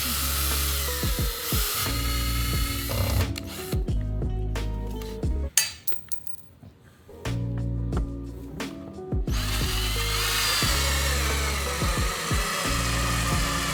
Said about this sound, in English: We're gonna drill some bolt holes